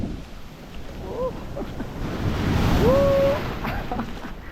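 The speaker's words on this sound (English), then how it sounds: "Waves are so powerful." Powerful ocean waves crash and roll at Nha Trang beach in the rain, a loud continuous surge that swells toward the middle, mixed with wind buffeting and brief excited vocal exclamations.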